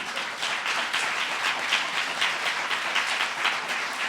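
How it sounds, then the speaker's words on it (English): Audience clapping at a Pennsylvania government event on executive orders for people with disabilities and autism, a sustained steady patter of hands running throughout at moderate loudness. "You can clap for that."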